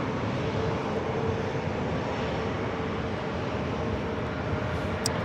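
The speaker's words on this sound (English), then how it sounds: "This is JetBlue Airways Flight 723 coming in from JFK on the A321neo" JetBlue Airways Airbus A321neo arriving at LAX: steady, broad engine roar with a faint whine, even and continuous throughout, heard from a moderate distance.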